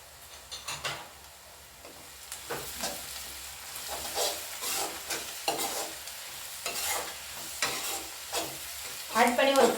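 Garlic and green chilies sauté in a pan for a dry fish thokku, giving a close, moderate sizzle. Irregular spatula stirs and scrapes punctuate it, growing busier toward the end, with no talking.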